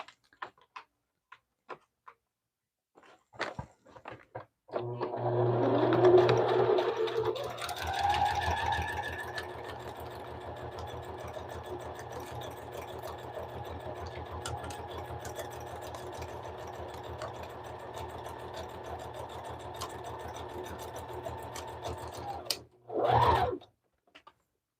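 An electric sewing machine stitching a fabric cover made from Amazon packaging, starting up with a rising whir and then running at a steady fast hum for nearly twenty seconds, loud and close, stopping with a final short burst.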